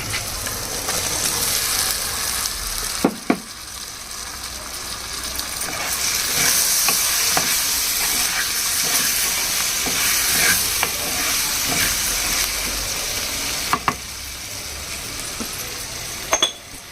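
Drumstick curry with salt and turmeric fries in a clay pot, giving a loud, continuous sizzle and hiss broken by a few sharp stirring knocks against the pot.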